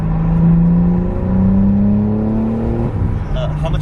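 BMW engine blipping with automatic rev matching, revs climbing smoothly in a rising tone over a few seconds and then dropping back, heard from inside the car while people talk.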